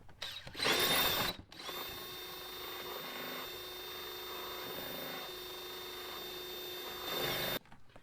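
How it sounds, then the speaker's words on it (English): A drill fitted with a grinding stone grinds into a bracket while a rear tow hook is fitted to a sixth-generation Chevrolet Camaro. Two loud, close whirring bursts stand out at the start and end, with a steadier, quieter grinding whine in between. "I'm just using a grinding stone in my drill"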